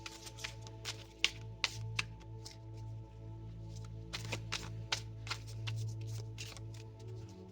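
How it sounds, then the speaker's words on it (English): Tarot cards are shuffled by hand in a steady run of soft riffles and flicks, with a few sharper snaps, close-up over a faint low hum. "let's pull some cards on it."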